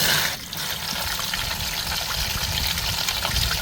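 Water from a garden hose runs through a snowmobile heat exchanger on a 2002 ZR 600 EFI in a steady, close trickling rush, with a brief dip near the start and then constant flow.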